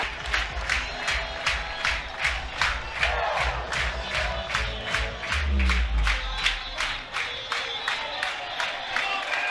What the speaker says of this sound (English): Home crowd getting fired up with a full count.